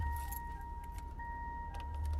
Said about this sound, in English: Some car sounds.